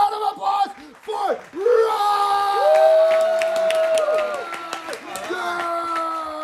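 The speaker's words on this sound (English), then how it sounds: "Round of applause for" A game show studio crowd cheers, yells and claps loudly as a contestant is brought out, with an announcer's voice and whooping cutting through the noisy roar.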